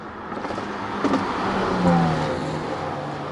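A Hyundai i30 N with a full Milltek exhaust line revs up, its exhaust note climbing in pitch with a throaty rasp, moderately loud and close by.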